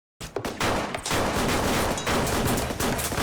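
Gunfire from a TV shootout scene in The Wire, a sustained barrage of rapid overlapping shots that runs almost without pause, loud and dense, with no talk over it.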